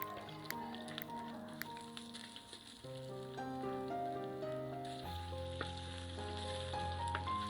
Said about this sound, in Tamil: உருளைக்கிழங்கை கொஞ்சம் எண்ணெயில் வதக்கிக்கிறேங்க